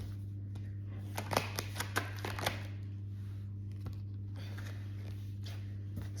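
Tarot cards are drawn and handled during a reading, a few soft, close taps and rustles scattered over a steady low hum, faint and intermittent.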